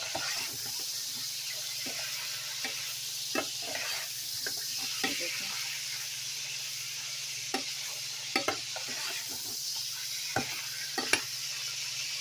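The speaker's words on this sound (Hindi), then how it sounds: "ये जो तेल है जिसमें हमने प्याज को ब्राउन किया है ना" Garlic, ginger and onion frying in oil, a bright continuous sizzle with scattered stirring clicks and scrapes over a low steady hum, no voices.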